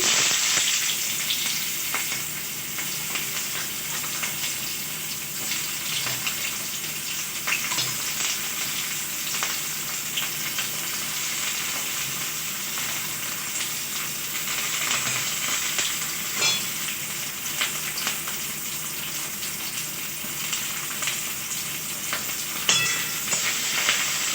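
Onions hit hot oil in a wok with panch phoron and dried red chillies, producing a continuous, close, crackling sizzle with occasional pops and no talk.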